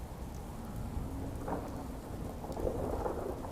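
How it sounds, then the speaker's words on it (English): Steady rain with rolling thunder in modded Fallout: New Vegas, a continuous wash of rainfall with low rumbles swelling midway and again near the end, with no voices. "Something wants to hang out in the rain. I gotta wonder though, because the rain is mostly modded."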